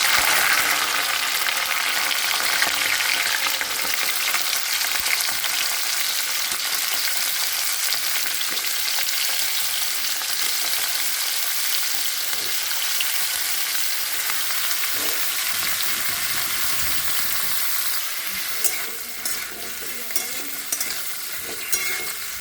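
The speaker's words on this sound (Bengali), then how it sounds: "তো ফুলকপিগুলোকে এখন আমি ভেজে নেব।" Cauliflower florets fry in hot oil with a steady, dense crackling sizzle up close, continuing without a break and easing slightly near the end.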